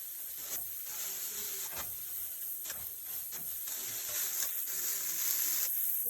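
Food browning in a pan for a Hello Fresh meal, a soft continuous sizzling hiss broken by several scraping stirs, fairly quiet and close, with no talk.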